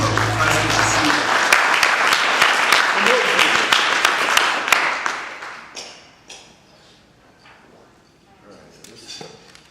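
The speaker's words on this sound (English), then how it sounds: "Brief round of applause." An indoor audience gives a brief round of applause, dense clapping for about five seconds before it thins out to a few scattered claps and quiet shuffling.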